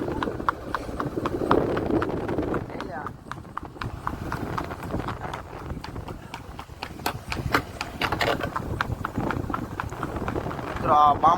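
A horse walks at a steady pace, its hooves clip-clopping in a close, regular rhythm that runs through the whole stretch, while voices talk over it at times.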